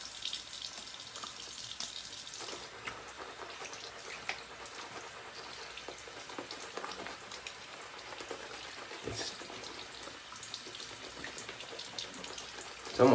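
Water runs and splashes faintly into a sink while shaving lather is mixed with CBL Roasted Oatmeal Stout soap, a soft, steady hiss with scattered drips, quiet and unbroken.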